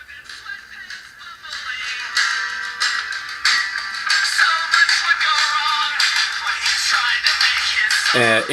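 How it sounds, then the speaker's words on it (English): Music streamed from Spotify plays through the small built-in speaker of a UWatch U8 smartwatch, thin and tinny with no bass, steady and fairly loud throughout. "Now we're going to go ahead and play music through the watch"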